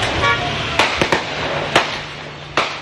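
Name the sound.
gunfire at a campaign convoy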